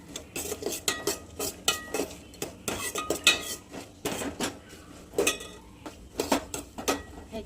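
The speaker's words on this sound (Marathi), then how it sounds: "बदाम परतून घेऊयात, नंतर काजू टाकूयात आपण त्याच्यात. नंतर बारीक गॅसवर मस्त परतून घ्यायचं" Almonds and then cashews roasted over a low flame in a pan, a spoon scraping and clinking against the metal in quick irregular strokes with soft rattling of nuts, close and fairly loud, no talk.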